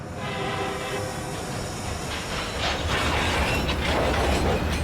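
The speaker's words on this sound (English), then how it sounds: "The train is starting to depart. Yes, the train is moving." A freight train made up of gondola cars begins to pull away, a steady rumble of rolling wagons with metallic squeals and faint clanking that grows slightly louder as it gains movement.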